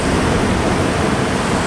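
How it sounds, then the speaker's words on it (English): Ocean surf breaking on the shore below Baldhead Cliff makes a loud, steady roar of broadband wash, close and continuous without any pause or voices. "Wow, that ocean is fabulous."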